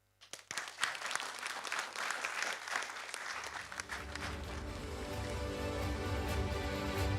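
An audience at a public lecture bursts into applause to welcome a lecturer, Professor Lim Cher Ping: scattered claps build quickly into sustained, dense clapping that continues steadily to the end, with a low rumble underneath.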